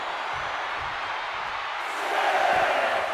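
A raucous ringside crowd at a Seth Rollins vs CM Punk wrestling match, a dense continuous roar that swells louder partway through.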